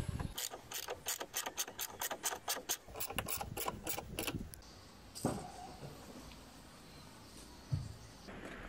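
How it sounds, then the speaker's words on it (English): Screws are driven back into a Honda NC750X motorcycle luggage rack with a ratcheting tool, giving a quick run of close, crisp clicks for several seconds, then a few scattered handling knocks in a quiet room. "Now just put back the screws."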